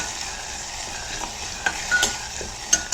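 Onions frying in oil in a pan during home cooking, a soft steady sizzle with light stirring scrapes and small clicks, fairly quiet and close, with no talking.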